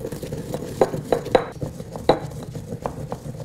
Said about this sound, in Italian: E ora la prima cosa da fare è pestare e amalgamare un po' questi ingredienti